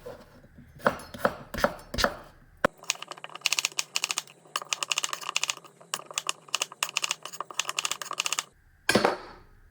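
A knife chops white potatoes into chunks on a cutting board, a few heavy separate thuds followed by a long quick run of rapid, crisp close chopping strokes, then one last cut.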